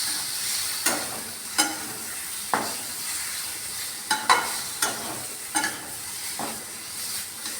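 Potato curry with tomato sauce is stirred in a hot frying pan: a constant sizzle with a spoon scraping the pan in regular, evenly spaced strokes, close up and without speech.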